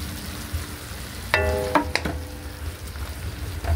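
Red bell pepper and onion, cut in fairly large pieces, hit a hot pan for pancit canton with chicken liver, giving a steady sizzle with a few louder clatters and stirring knocks partway through.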